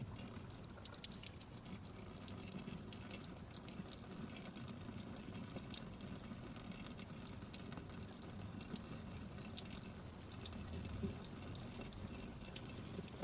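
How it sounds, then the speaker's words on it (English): Hands being rinsed under clean running tap water at home, a faint, steady splash and trickle with light drips throughout. "rinsed them with clean water."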